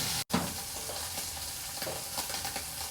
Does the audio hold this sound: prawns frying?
yes